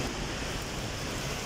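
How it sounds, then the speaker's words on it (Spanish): Steady, dense roar of the second waterfall at the Paluz hot springs in Carchi, Ecuador, a close, loud wash of falling water filling the whole short stretch without any voices. "Estamos aquí en la segunda cascada de Paluz."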